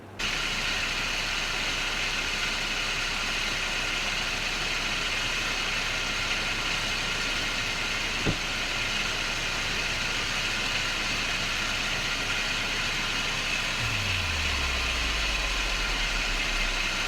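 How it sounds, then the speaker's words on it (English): A Jeep Wrangler JLU engine runs at a steady, loud idle with a constant mechanical hum throughout, a single click midway and a low falling tone near the end. "make sure the battery has got plenty of power so we can crank this Jeep up"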